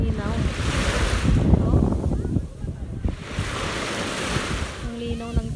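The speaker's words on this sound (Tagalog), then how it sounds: "Sobrang lakas ng alon. Ang lakas ng alon." Strong ocean waves crash and surge continuously at a beach, loud and close with heavy wind buffeting the microphone; a voice briefly exclaims near the end.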